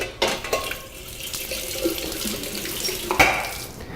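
An eyewash station in a glaze studio sprays water in a steady, close hiss and splatter lasting several seconds, with a few sharper splashes near the end.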